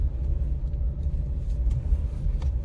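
A Suzuki Alto 660cc with a manual gearbox drives along, its small engine giving a steady low rumble with faint road noise throughout and no talk.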